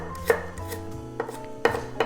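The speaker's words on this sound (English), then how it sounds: "just take 2 slices at a time and just cut them into strips" Knife chopping a large carrot, two diagonal slices at a time cut into strips for gimbap, with a handful of crisp, distinct board knocks spaced unevenly and close up, no talking.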